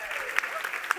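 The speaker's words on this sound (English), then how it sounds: "which we can all give a little round of applause for." Short burst of applause from an audience at a women's business summit panel, fairly quiet and thin, with a few sharper claps standing out over a steady patter.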